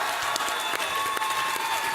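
Audience applause at a live Kingdom Hearts panel, a steady wash of clapping and crowd noise that fills the whole short stretch at moderate, even loudness.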